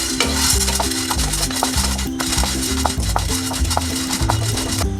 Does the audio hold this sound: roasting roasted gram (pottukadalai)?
yes